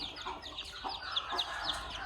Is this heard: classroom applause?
no